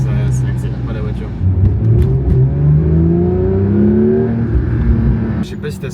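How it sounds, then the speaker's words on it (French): A car engine revs in neutral inside the cabin, its pitch climbing and holding without the car speeding up, loud and steady under conversation. "Je peux accélérer et ça accélère pas la voiture."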